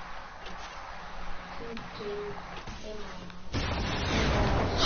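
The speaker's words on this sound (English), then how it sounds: "What was that explosion?" A guided missile explodes in a video game: a sudden broadband burst at about three and a half seconds, loud and close, cutting into a stretch of low game hum with short tonal beeps and quiet talk beforehand.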